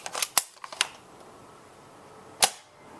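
A Nerf Dart Tag Sharp Shot blaster fires with a sharp snap, and several quick clicks and pops lead up to it. A single louder shot rings out alone about two seconds later, close by and crisp against a quiet background.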